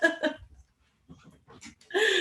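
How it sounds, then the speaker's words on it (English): House dogs bark during a thunderstorm, a quick double bark up close, then a pause with faint snuffling and a few more sharp barks. "it's thunderstorming and my dogs are barking."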